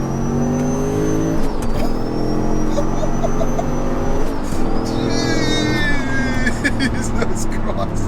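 A rear-mounted turbocharged 730 bhp V8 Audi RS4 engine revs and spools up loudly from close by, its pitch rising and falling over a steady engine drone with a whistling turbo tone.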